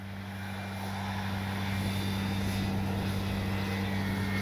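A Dynam EMB-312 Tucano RC model airplane drones steadily with a continuous engine hum, buffeted by strong wind noise, holding constant and fairly loud without voices.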